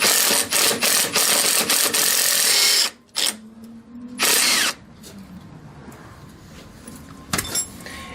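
Power tool with a ratcheting mechanism backing a 13 mm bolt out of a Chevy Silverado K2500 ball joint, several short whirring bursts separated by pauses, close and fairly loud.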